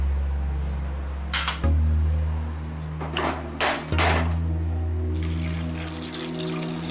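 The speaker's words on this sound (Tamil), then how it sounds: "காய் முங்குற அளவுக்கு தண்ணி." Water poured from a vessel into a cooking pot of sautéed vegetables with sambar powder, chilli and turmeric for Tirunelveli-style vellai kulambu, a few short splashing bursts over a steady low kitchen hum.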